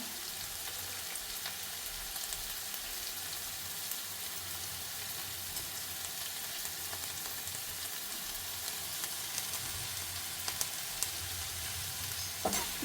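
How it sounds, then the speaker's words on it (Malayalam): Spinach thoran stir-frying in a pan, giving a constant dense sizzle like steady rain, with occasional faint scrapes of stirring, close and even throughout. "നന്നായി ഇളക്കി ചേർക്കാം."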